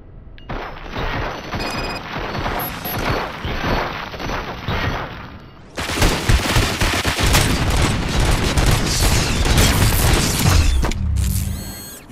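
Gunfire in RoboCop: Rogue City, a dense, loud barrage of rapid automatic shots and mechanical clatter that grows heavier halfway through and then cuts off abruptly, with no talking.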